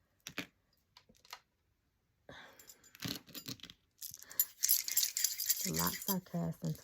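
Dice shaken and rattled during a tarot reading, a few sparse clicks at first, then a busier clattering of rattles and taps, close by, with a voice talking over the later part.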